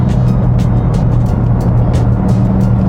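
BMW G80 M3 in M2 mode, a steady, loud engine drone and road rumble from inside the cabin, continuous with no clear revving peaks.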